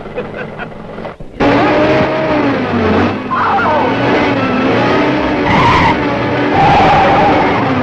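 A car lurches and skids as an inexperienced driver fumbles the gear shift, loud tire squeals and engine strain rising after a quieter start and continuing for several seconds.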